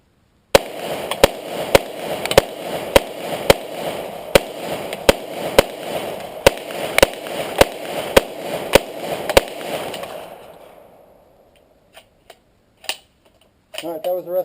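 A Taurus CT9 carbine fed from a high-capacity Colt SMG magazine fires about sixteen sharp shots at a steady, even pace over ten seconds, then goes quiet except for a few faint clicks and handling noises.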